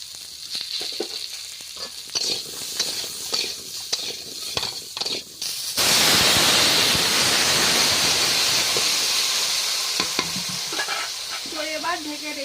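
Fish sizzles and fries loudly in a pan right after oil is poured in, a dense steady hiss rising abruptly after a stretch of stirring clatter and continuing close and strong.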